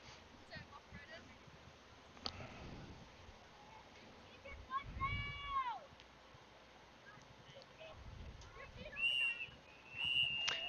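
A referee's whistle sounds at a girls' JV high school soccer match between Lake Havasu and Yuma at halftime: a few thin, distant blasts over outdoor crowd noise and a commentator's voice.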